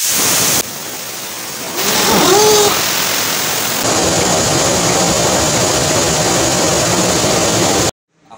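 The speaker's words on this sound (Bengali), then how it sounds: "এখন আমরা মেন ইঞ্জিনের কন্ট্রোল বক্সের পাওয়ার অন করব এবং এয়ার বোতলের ডেলিভারি লাইন ওপেন করে সেলফ দিয়ে ইঞ্জিন" A ship's main diesel engine started with compressed air from the air bottles gives a loud rushing blast followed by a deep, steady engine roar in the engine room, which cuts off abruptly near the end.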